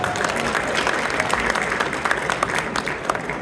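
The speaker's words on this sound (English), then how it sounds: "Clap it up, everybody." Audience applause at a coalition brunch event, a dense steady wash of clapping from a crowd lasting the whole stretch, fairly loud and even with scattered sharper claps.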